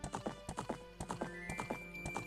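A horse's hooves clip-clop in a quick, steady gallop rhythm in The Legend of Zelda: Ocarina of Time, with a neighing whinny and game music sounding along with it.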